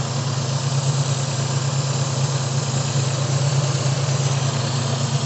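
Toyota Corona carburetted engine idling steadily as the throttle is slowly opened, a continuous loud low rumble with constant vibration and no voices.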